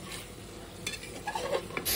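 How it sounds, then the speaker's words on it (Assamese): A spoon stirs chicken curry in a pan with a little added water, soft scraping and faint sizzling, brief and fairly quiet, with a few light clinks near the end. "তো এতিয়া মই লাৰি দিব লাগিব আৰু লাৰি থাকিব লাগিব অলপ টাইম"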